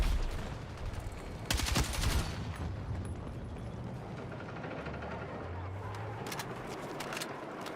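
RPK machine gun in Battlefield 6 rattling off a couple of dense bursts, loud at first and again near the end, with quieter game noise and a low rumble in between.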